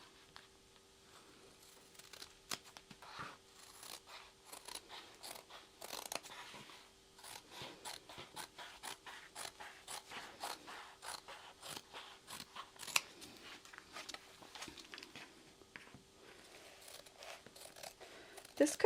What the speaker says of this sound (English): And then you can cut that out using scissors or a rotary cutter.